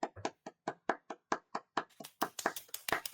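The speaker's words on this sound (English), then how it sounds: "Round of applause." A short burst of hand clapping during a podcast, starting as a few separate, evenly spaced claps from one or two people and then thickening into quicker, overlapping applause, close and fairly loud with no talking.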